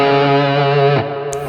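Short electric blues guitar lick leaning on the major third, a few sustained distorted notes ringing with light effects and then cut off, close and alone.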